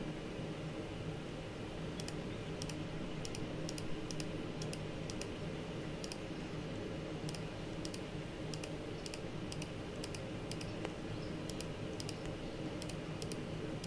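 A computer mouse clicks in a steady series of crisp, faint ticks, several per second with brief pauses, over a constant fan-like hum and no talk.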